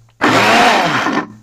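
A kitchen blender grinds dry-roasted ingredients for satay sauce, a loud, steady close-up whirring roar that starts abruptly and runs about a second before cutting off.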